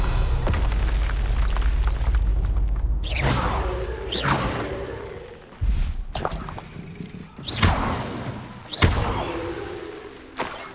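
Spell impacts from Bombarda in the video game Hogwarts Legacy produce a series of sharp booming bursts with whooshing decays, several in succession over a rumbling background.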